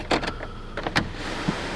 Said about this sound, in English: Close the sunroof actually because it might get a little loud in here.